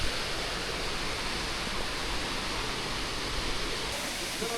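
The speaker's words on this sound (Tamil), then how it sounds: "இது முடிச்சுட்டு நம்ம மெயினான வாட்டர் ஃபால்ஸ் இதோ" Jogini Falls near Manali roars as a dense, continuous rush of falling water. It stays loud and close throughout, with no break or lull.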